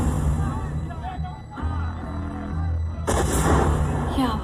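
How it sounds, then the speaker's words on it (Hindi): Firecrackers burst outside during a festive election-result night in West Bengal, heard as irregular cracking pops under overlapping voices. "बाहर पटाखे फूटने लगे"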